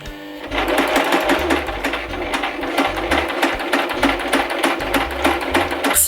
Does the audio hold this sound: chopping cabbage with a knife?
no